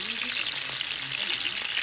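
Sausages sizzle and crackle in a frying pan, a steady close hiss with faint stirring underneath and no clear talk.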